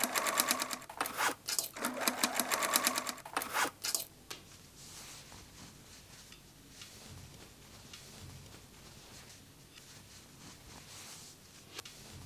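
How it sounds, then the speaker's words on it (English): A sewing machine stitches the side edges of a crossbody phone bag made from old denim jeans, with a fast rattling burst of stitching up close at the start, then quiet handling sounds. "Secure with sewing clips and stitch the side edges."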